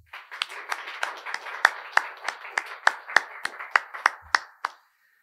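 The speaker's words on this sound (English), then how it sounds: "So please help me give a round of applause to all the sponsors." A small audience gives a brief round of applause to sponsors at a spring music showcase. Crisp, steady claps stand out over a softer bed of scattered clapping for about five seconds, then stop abruptly. No one speaks.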